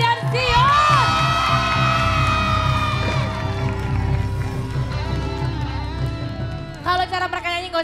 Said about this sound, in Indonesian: tepuk tangan sekali lagi dong untuk Vicky dan Sio